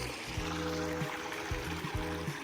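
A mountain stream swollen by rain flows with a soft, continuous rush, faint and steady, over a low droning hum.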